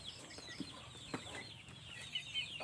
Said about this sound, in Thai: นี่เป็นไก่ดำเนาะค่ะ ไก่ดำที่สื่อมาเลี้ยงไว้